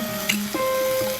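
Raw mango pieces stirred in a pan, a soft scrape and light sizzle for about a second, close and steady, with no talking.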